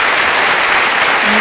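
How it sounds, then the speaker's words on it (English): A seated audience breaks into a steady round of applause for a speaker named Fran, dense and continuous clapping close by for a short burst. "let's give Fran a wonderful round of applause"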